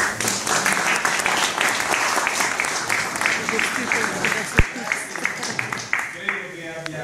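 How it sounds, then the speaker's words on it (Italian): Audience applause at a public gathering in Perugia fills the whole stretch: dense, steady clapping from many hands with one sharper clap standing out near the end, easing slightly as it closes. "Magari facciamo un bel applauso."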